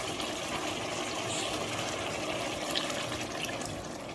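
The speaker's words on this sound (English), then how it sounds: "can add water into it" Water poured into a cooking pot of okra chicken curry, a steady continuous splashing stream heard close and alone.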